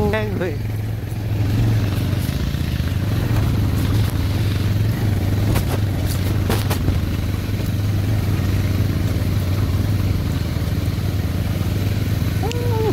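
A motorcycle engine labours loudly and steadily in first gear on a steep mountain road, with a constant low drone close by while someone talks over it.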